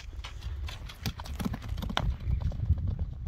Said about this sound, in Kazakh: Атты бир чуркаталы